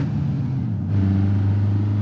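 Diesel engine of a Cherrier Vivace car in BeamNG.drive idling with a low steady drone, stepping up to a slightly higher, stronger hum partway through, close and without talk.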